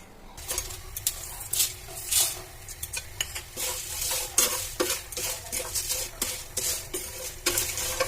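Whole spices with three bay leaves are stirred in a hot pan on a stove, producing a soft sizzle with repeated scraping and clinking of a utensil against the pan.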